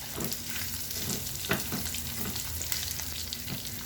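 Meat fries and toasts in its own rendered fat in a pan, making a continuous close crackling sizzle with scattered sharper pops and light stirring throughout.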